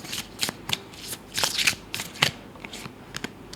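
Tarot cards being shuffled by hand, a crisp run of riffling and flicking bursts close up, with no talking.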